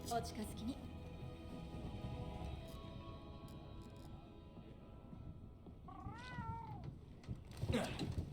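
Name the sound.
cat companion meowing in Monster Hunter World video game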